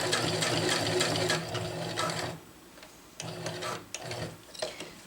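A sewing machine stitches a water bottle carrier in fast rhythmic runs, close and steady, pausing briefly before resuming in shorter stitching bursts.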